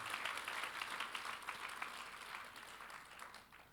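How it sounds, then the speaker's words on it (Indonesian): An audience at a leadership talk on insurance claps together, a dense, fairly faint burst of applause that tapers off slightly toward the end, with no voices over it. "Boleh tepuk tangan buat Anda dan sekalian yang ada di sini."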